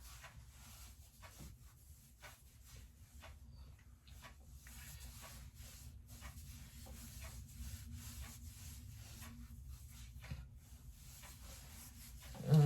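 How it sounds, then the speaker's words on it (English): Soft, steady rubbing and swishing of a rag wiping soap off the skin of the neck, close and quiet, repeated strokes running continuously with no talking. "I'm going to take my handy dandy rag, get this soap off my neck."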